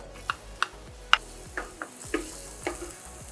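Red chili and garlic sizzling in hot ghee for dal fry, a quiet crackle broken by a series of sharp pops and spits at irregular intervals.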